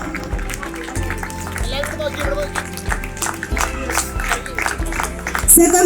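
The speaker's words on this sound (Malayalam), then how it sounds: "നല്ലൊരു കൈയടി കൊടുക്കാം." An audience at a school event for class 1B claps steadily through a hall sound system, with a low rhythmic beat of music and an announcer talking over it.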